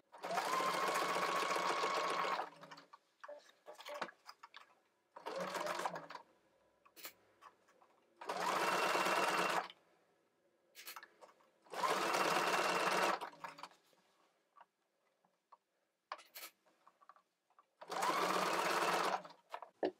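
A sewing machine stitches a microsuede doll skirt, running in several loud bursts of rapid whirring stitches with quieter gaps. Soft clicks and handling noises fill the gaps while the fabric is turned at a corner.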